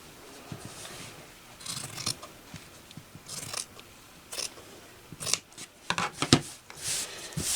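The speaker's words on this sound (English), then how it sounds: "I'm going to just go ahead and cut some of that off" Scissors snip through quilting fabric to trim excess bulk from the seams of a sewn microwave bowl cozy, a series of close, crisp cuts in irregular bursts with short pauses between them.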